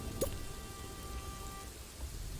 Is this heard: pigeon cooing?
no